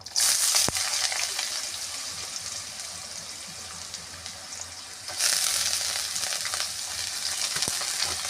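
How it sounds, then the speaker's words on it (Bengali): Potatoes frying with dried red chilli and nigella seeds give a bright, hissing sizzle that thins out for several seconds and then surges louder again, with a couple of sharp clicks along the way. "শুকনো লঙ্কা কালো জিরে আর আলুগুলো আমি দিয়ে ভেজে নেব"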